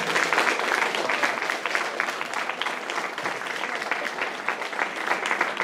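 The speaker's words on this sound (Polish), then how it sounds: "Witamy gorąco i serdecznie, brawa." A crowd applauds steadily, a dense wash of clapping that stays loud and even throughout.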